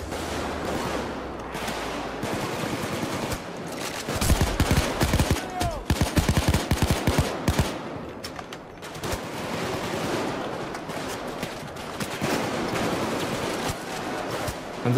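Rapid gunfire rattles in a police shootout in Payday 2, with dense bursts of automatic fire that peak in the middle and then continue more steadily at a moderate level, while a voice speaks intermittently.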